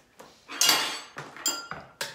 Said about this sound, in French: C'est toi qui ouvre la boîte.